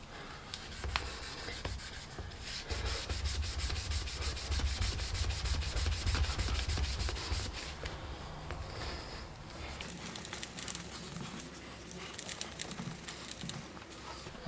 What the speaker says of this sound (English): you want to get your 800 grit again, give it another blast of it